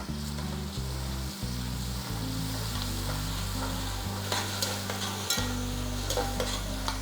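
Tomatoes, onion and garlic sauté steadily in hot oil as the base for a fish curry, with an even sizzle and light stirring under a strong, low, steady background music bed.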